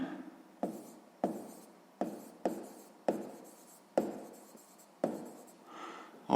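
A pen or pencil writes down the answer to a sixth-grade math exercise on paper, with a close, faint series of regular scratching strokes, each stroke starting with a sharp tap and trailing off.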